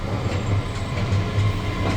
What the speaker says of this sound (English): Trains, train track.